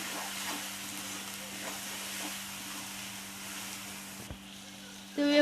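Green chillies sautéing in a pan for a fenugreek pithla, a steady close-up hiss and sizzle with faint stirring, over a low constant hum that drops away just before a brief tonal clatter at the end.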